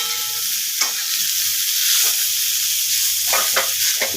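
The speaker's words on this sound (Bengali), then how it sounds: "এবার মেথি শাকটা দিয়ে দিলাম।" Fenugreek greens (methi saag), salted and squeezed of water, are tipped into a hot pan and stirred, giving a steady close sizzle with a few scraping stirs and clacks of the spoon, no voices.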